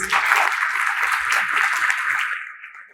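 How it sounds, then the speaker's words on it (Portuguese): An audience at a school family gathering gives a short burst of applause for the educators, dense clapping that fades out after a few seconds. "eu gostaria que todos dessem uma salva de palmas para os nossos educadores"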